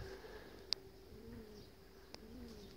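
Pigeons near a dovecote give soft, low cooing calls at close range, with a couple of brief sharp chirps standing out over quiet background hiss; no one speaks.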